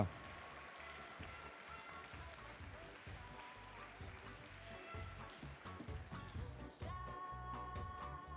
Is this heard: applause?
yes